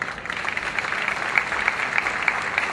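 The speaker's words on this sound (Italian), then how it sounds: "ancora più forte l'applauso" An audience applauds at an outdoor summer event, a steady dense patter of many hands clapping without a break, fairly loud and close, with no talk over it.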